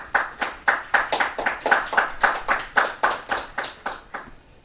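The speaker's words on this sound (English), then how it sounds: "Ladies and gentlemen, please give a huge round of applause." Steady rhythmic clapping follows a memory display at a community festival performance, with roughly fourteen sharp, evenly spaced claps close by, loud and clear with no talk.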